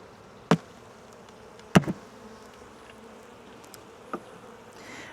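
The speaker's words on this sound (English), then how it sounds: "bees are going to get upset with me" Honey bees hum faintly and continuously around an opened hive, a low steady drone broken by a few sharp knocks and clunks of hive equipment being moved nearby.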